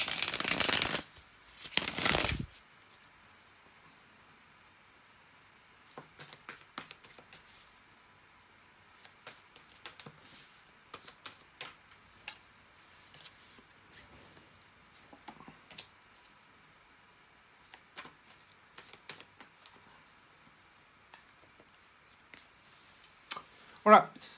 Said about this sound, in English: just bear with me a couple of seconds, guys, to shuffle the tarot cards